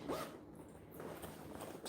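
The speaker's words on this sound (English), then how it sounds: "Zipper shut." A clothing zipper drawn shut on a bag sewn from bonded nylon fabric, one close, quick rasping pull that tails off, with a second short zip at the end.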